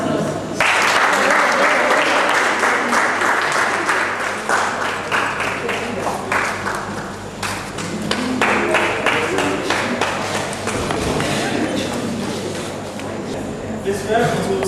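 An audience at a poetry and talk show at the Maison Francaise in Legon applauds warmly, loud and sustained with some uneven clapping, and voices murmur in the crowd.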